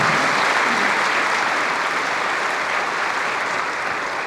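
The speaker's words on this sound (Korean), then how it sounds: "축하의 박수 부탁드립니다" Sustained, dense applause from a crowd fills the whole stretch at an even, steady level.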